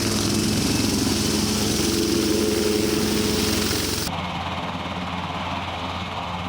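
KUH Surion, a Korean-built military helicopter, flies with a loud, steady rotor and turbine roar that holds strong for about four seconds, then cuts abruptly to a quieter, duller engine drone.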